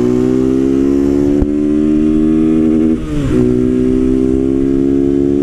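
A Honda Titan 160 motorcycle engine runs close and loud in a steady, even drone, with one brief dip and recovery in revs partway through.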